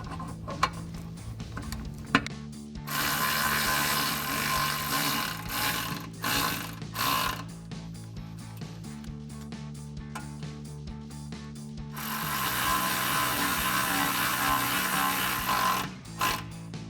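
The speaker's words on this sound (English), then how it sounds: "we can take a 3/16 Allen head bit to tighten these down" A hand ratchet turning a 3/16 Allen head bit tightens bolts on a running board bracket of a Jeep Gladiator JT. It gives bursts of rapid close clicking separated by short pauses.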